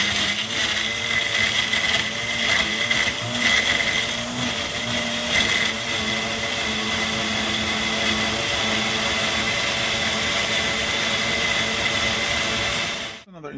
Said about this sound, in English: Now that it's in my blender, I'm gonna give it a little whip.